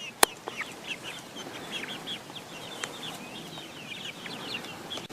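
A rooster and his flock of hens cluck and chirp in a steady, busy chorus at close range, with one sharp knock near the start.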